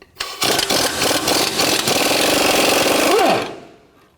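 Powered impact tool with a 21mm socket loosening a lower rear control arm bolt on a 2007-2014 Cadillac Escalade, a loud, steady rapid hammering burst of about three seconds that cuts off abruptly.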